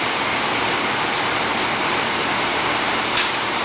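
Water pours over a freshly ground concrete block to rinse off the grinding slurry, a loud, steady rushing wash like a running hose that continues unbroken with no voices.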